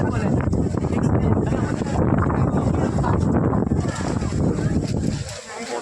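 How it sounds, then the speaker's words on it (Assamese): Strong wind buffets the microphone at Ganesh Ghat in Tezpur, a loud continuous roaring rumble with gusting surges, with talk underneath. "কেনেকুৱা বতাহ মাৰিছে ভাই, কি বতাহ মাৰিছে।"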